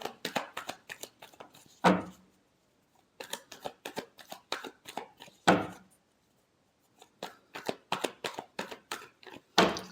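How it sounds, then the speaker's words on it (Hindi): Tarot cards being shuffled by hand, clustered bursts of crisp riffling and tapping with short pauses between sets and a few sharper slaps, close and fairly quiet, with no talking. "last shuffle"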